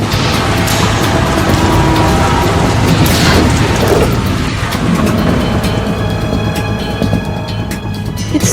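Heavy rain pours in the Metal Gear Solid 2 game, a loud continuous roar mixed with low rumbles and mechanical noise, easing slightly toward the end.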